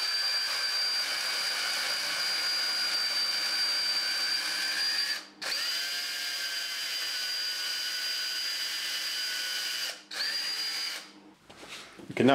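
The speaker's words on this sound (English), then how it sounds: "And then we can continue drilling the hole from the backside." A power drill bores a hole through a sheet of glass from the backside, a steady high-pitched whine running continuously and cutting out briefly twice before stopping near the end.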